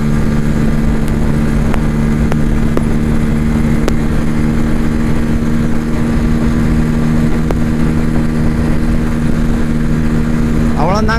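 A Bajaj Pulsar N160 motorcycle engine holds high revs at top speed, a loud, steady drone with strong constant tones and wind rush running without a break from start to finish.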